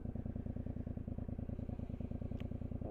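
Steady, fairly loud engine drone of a Suzuki motorcycle running near the microphone, a continuous rhythmic thrum with no talk over it.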